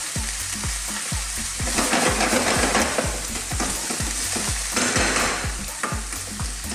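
A spinach, mushroom and potato mixture is stirred in a pan, producing rhythmic, close, repeated scraping strokes at a steady pace over a continuous soft sizzle.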